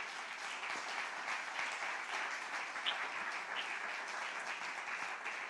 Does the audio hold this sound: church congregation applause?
yes